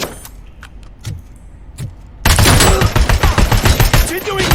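Loud, rapid gunfire bursts erupt halfway through Robocop Rogue City gameplay, after a quieter stretch of scattered single shots and game sounds, the volley continuing densely to the end.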